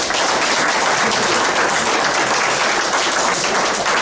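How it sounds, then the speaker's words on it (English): A high school senior party crowd gives a loud, sustained round of applause at a hypnotist show, dense clapping filling the whole stretch without pause. "Give them a thunderous round of applause."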